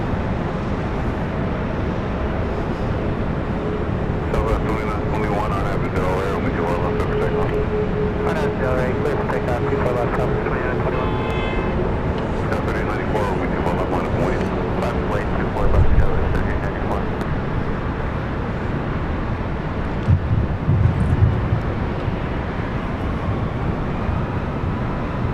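Boeing 777 airliners passing over LAX in Southern California, a steady broad jet rumble filling the whole stretch at moderate distance, with talk running over it throughout.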